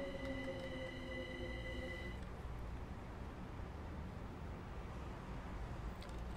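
Simulated trains rumble past on the Brighton Main Line in Train Sim World 2, a steady broadband roar of wheels on rail with a high squealing tone for the first two seconds, loud and continuous throughout.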